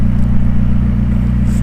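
A McLaren 675LT with its stock exhaust, a loud, close, steady low engine drone held throughout, with no pops or bangs standing out.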